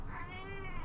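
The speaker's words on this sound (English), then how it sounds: "Oh god, another cat?" A cat gives one drawn-out, rising and falling meow, clear and close, with nothing else in the background.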